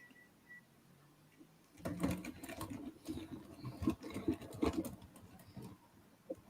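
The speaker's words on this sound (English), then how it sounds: "The screws go in so easy, don't they?" Small screws driven by hand into the metal foot of a Terminator model kit, soft close clicking, scraping and ratcheting in a quiet room.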